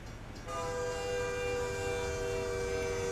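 Train horn in the American Truck Simulator driving game, a loud, sustained tonal blast starting abruptly and holding steady over a low rumble, with no talking.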